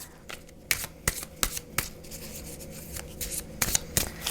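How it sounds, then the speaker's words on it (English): A deck of tarot cards gets shuffled by hand, the close, papery riffles and taps coming in uneven bursts over a quiet background, with no speech. "we are going to start with the tarot. I'm going to shuffle it just a little bit here on camera"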